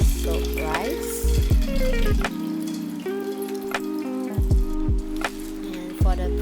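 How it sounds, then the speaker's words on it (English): Water strained off soaked rice for Nyonya rice dumplings, a steady splashing pour with drips and trickles running throughout at close range, with brief clinks and bumps of a container in between. "we need to separate the curry water and then strain off the water from the soaked rice"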